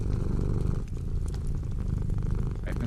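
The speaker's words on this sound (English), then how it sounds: "just enjoy the sound of cats purring by the fireplace" Cats purring beside a fireplace, a steady close low rumble that runs continuously throughout with soft crackle-like texture above it.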